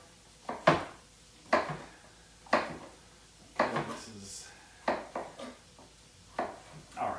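A knife chops a red pepper on a cutting board in a kitchen, making close, sharp knocks at a roughly regular pace of about one cut per second, with quieter scraping between them.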